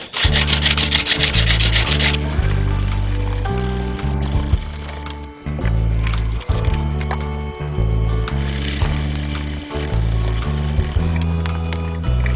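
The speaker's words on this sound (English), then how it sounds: "Keep everything wet, that way you don't have to wear a respirator. Get yourself some good sandpaper and get to work." Neck knife blades are wet hand sanded with sandpaper, giving loud, close, rhythmic back-and-forth rasping strokes that repeat steadily with brief pauses between passes.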